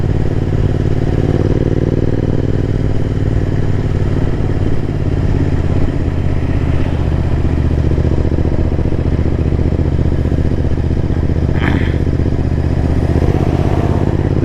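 Royal Enfield Interceptor 650 ridden in top gear at low speed, its engine holding a steady, continuous low thrum close to the microphone with no talk, while wind and road noise run underneath and a brief rattling clatter rises near the end.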